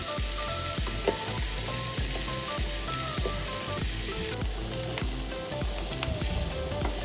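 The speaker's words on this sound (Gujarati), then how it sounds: "થોડી વાર આપણે હાઈ ફ્લેમ ઉપર કૂક કરશું આપણે વચ્ચે વચ્ચે પાસ્તાને પણ હલાવતા રહીશું" Pasta and vegetables for creamy white sauce pasta sizzle on high flame in a pan, a steady loud frying hiss with rhythmic scraping knocks from regular stirring throughout.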